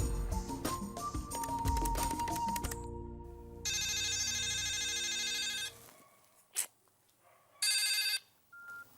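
A telephone rings out in a Hindi comedy scene: a jumble of music and tones gives way to a loud electronic ringtone, which sounds again in a short burst after a brief pause.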